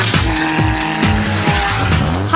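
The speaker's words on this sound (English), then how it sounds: "And we're going to burn some rubber." A car's tyres squeal and skid as it burns rubber at Mallory Park racing track in Leicestershire. The loud, continuous engine roar rises and falls with repeated surges, with no talking over it.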